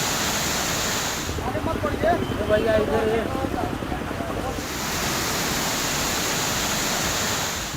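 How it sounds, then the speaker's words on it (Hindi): Raging floodwaters and churning river waves in a flood-hit area of Bihar and Uttar Pradesh make a loud, continuous rushing roar that holds steady throughout, with a voice briefly audible over it near the middle. "बेकाबू लहरें, दहलाती नदियां, जलमग्न हुए खेत, मकान और गांव के गांव।"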